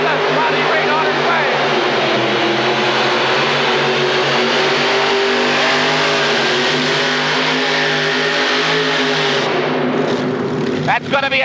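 Modified pulling tractors with multiple engines roar continuously and very loudly at a 1986 indoor tractor pull, a dense sustained drone with a voice heard over the din.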